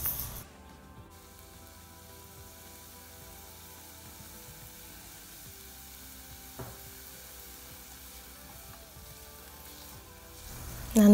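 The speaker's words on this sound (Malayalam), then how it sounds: "എന്നിട്ട് നന്നായിട്ട് നമുക്കൊന്ന് വഴറ്റിയെടുക്കാം." An egg masala gravy base sautés in a pan with salt, giving a soft, steady sizzle that stays low and even throughout, with a brief clatter near the end.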